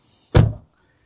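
A Tesla Model 3 car door swings open and strikes a foam door protector, giving a single dull thunk that fades quickly into quiet.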